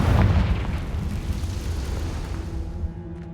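A Confringo fire-blast spell from the Hogwarts Legacy game bursts loudly at the start, then trails off into a long rumbling, crackling tail with a faint ringing tone lingering near the end.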